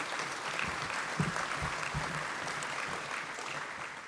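Audience clapping fills a room at a technology summit, a steady wash of applause that stays even and fairly full throughout with no voices over it.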